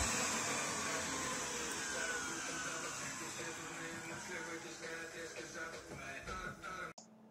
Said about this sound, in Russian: Работает пылесос.